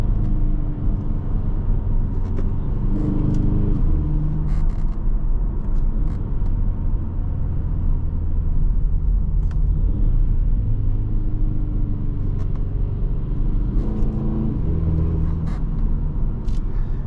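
A 2023 Kia Stinger GT-Line accelerates on the road, heard from inside the cabin. A loud, continuous low engine rumble and road roar swell under power, with no talking.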